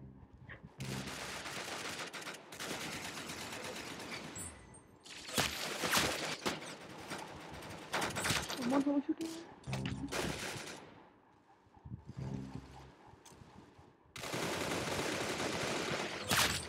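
Suppression gunfire in the video game Arsenal comes as several separate bursts of rapid shots, loud and close, with short quiet gaps between volleys.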